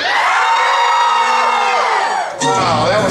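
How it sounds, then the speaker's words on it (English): A theater audience at a Monsters Inc 3D pre-show at the El Capitan Theater screams on cue, a loud burst of many overlapping shrieks and yells that dips briefly, then surges again. "Screams on the count of three. I want to hear you scream."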